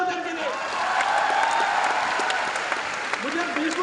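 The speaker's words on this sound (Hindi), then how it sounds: "जोरदार तालियां उनके लिए।" A large audience at a Delhi business success-day event bursts into loud, sustained applause with cheers and whoops, a steady roar of clapping and crowd voices lasting throughout.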